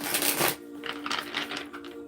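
A deck of cards is shuffled close by: a quick riffle burst, then softer rhythmic flicks and taps as the cards are squared and handled.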